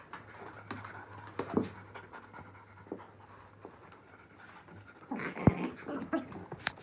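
Small dog panting in quick soft breaths close by, with faint low growling, scratchy pattering and a sharper thump near the end, no speech.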